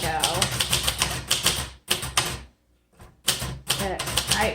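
Keys clack in rapid bursts on a green 1973 Royal Sabre portable typewriter, sharp close strikes in quick runs broken by a short pause of near silence before typing resumes.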